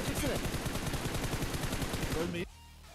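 Rapid automatic gunfire in a shooter video game, a steady, dense rattle of shots for about two and a half seconds that cuts off abruptly into near silence.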